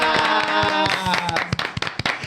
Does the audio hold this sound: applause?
yes